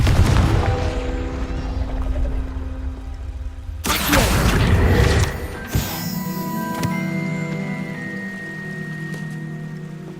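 Confringo spell cast in Hogwarts Legacy, a sudden loud fiery blast about midway, followed by crackling bursts and a lingering ringing, shimmering tail, after a low droning stretch of game ambience.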